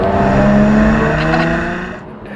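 A 2016 Jaguar F-Type engine revving loudly nearby, a deep harmonic growl that holds strong, then eases as the revs fall away.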